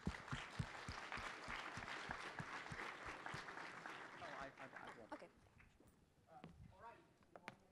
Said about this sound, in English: So let's give some hands of applause to Mr.